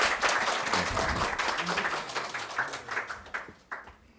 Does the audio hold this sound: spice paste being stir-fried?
no